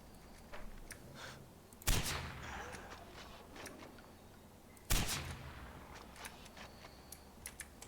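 Two sharp, loud gunshots in Far Cry 4, each a single heavy blast with a ringing tail, spaced about three seconds apart over a steady in-game ambience with faint ticks between.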